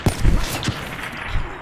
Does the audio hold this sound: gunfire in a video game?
yes